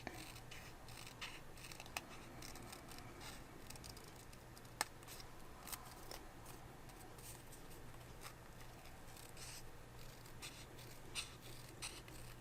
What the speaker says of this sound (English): These are the straight edge mini scissors, or detail scissors.